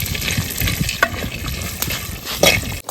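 Cashews frying in a pan while being stirred, a continuous sizzle with scraping strokes of a spoon and several sharper clicks, close and fairly loud throughout.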